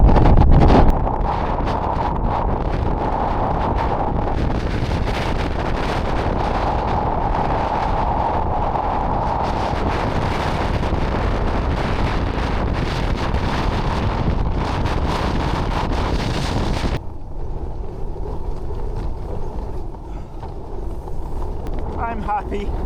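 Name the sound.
strong wind blowing over the Nortent Varde 1 tent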